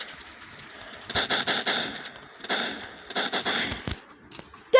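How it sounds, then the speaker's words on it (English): A shotgun fires in a zombie shooter game, with several loud, sharp bursts of blasts in quick clusters and a final abrupt crack at the end. "Yep, definitely a shotgun."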